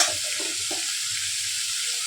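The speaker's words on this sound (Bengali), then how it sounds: "মাংসের জন্য আমি পেঁয়াজ ভাজতে বসিয়ে দিয়েছি," Onions fry in a pan as the base for a meat curry, giving a steady soft sizzle with light stirring scrapes and no speech.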